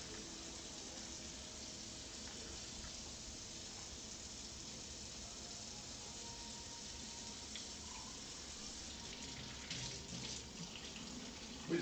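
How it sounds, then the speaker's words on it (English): Water runs through a beer bottling wand during a homebrew bottling session, a steady, quiet trickle and splash like a tap into a sink that lasts throughout, with no speech. "We just run water through it."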